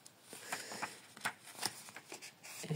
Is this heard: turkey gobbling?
no